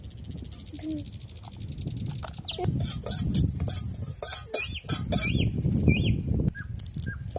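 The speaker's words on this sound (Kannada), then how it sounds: "ಶೇಂಗಾ ಕಾಳು ತಗದ್ಬಿಟ್ಟು ಸ್ವಲ್ಪ ಸಾಸಿವೆ ಸ್ವಲ್ಪ ಜೀರಿಗೆ ಇವನ್ನ ಡ್ರೈ ಆಗಿ ಹುರ್ಕೊಳ್ಳೋಣ" Peanuts, mustard seeds and cumin dry roasting in a pan give off repeated scraping and clinking as a utensil stirs them, with bird chirps in the background.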